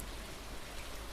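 Rain in the farming video game Stardew Valley, a steady, soft patter of drops on surfaces that stays even and gentle throughout, quiet and lulling with no voices.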